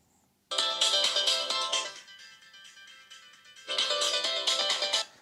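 A melodic ringtone plays loudly from a Samsung Galaxy A04s smartphone's single mono speaker, bright and slightly tinny with somewhat boosted highs, in two bursts separated by a quieter stretch, with no talking.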